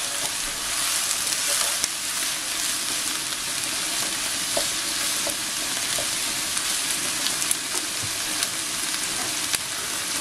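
Food frying in a pan gives a steady, bright sizzle while it is stirred, with light scraping clicks here and there and no voices.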